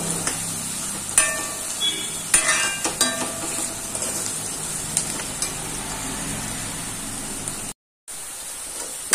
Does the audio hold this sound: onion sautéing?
yes